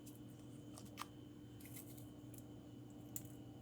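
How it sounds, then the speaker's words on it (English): Scissors snip open a yeast packet in a kitchen while pretzel bites are being made, two quiet, brief cuts over a steady low background hum. "You're going to cut open that or tear open the yeast packet."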